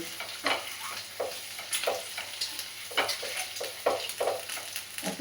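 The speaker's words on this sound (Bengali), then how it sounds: "পেঁয়াজ কাঁচা লঙ্কা ডিম একসঙ্গেই কিন্তু বসিয়ে দিয়েছি ভাজতে" Onion, green chili and egg fry together in a pan, a soft continuous sizzle with regular spatula scrapes and taps recurring through the clip, close but fairly quiet.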